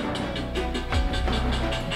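Jazz drums with a deep bass drum keeping a loose tempo and a ringing bell imitate a train, a steady chugging pulse with a sustained tone underneath.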